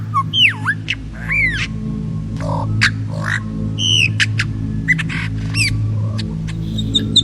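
Lyrebird mimicking other sounds: a series of varied, sharp whistles, swooping calls and clicks, each brief and distinct, over a steady low background hum.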